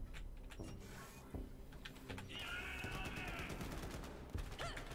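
Gunfire in Borderlands 3 during a squad match, rapid bursts of sharp shots mixed with mechanical game effects and a brief whining tone, moderately loud, with faint voices underneath.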